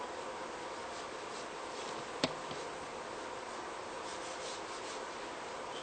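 Cloth rubbed with citrus degreaser over old decal glue on a mountain bike frame, a steady soft scrubbing hiss throughout with one sharp tap midway, close up and alone with no talking.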